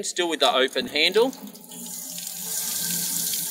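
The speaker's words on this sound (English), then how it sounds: "no water is coming through the back of the hose, but it is all being expelled from the vacuum breaker" Water gushes steadily from the vacuum breaker of a garden hose tap with the handle left open, a continuous hiss beginning after someone speaks briefly over it.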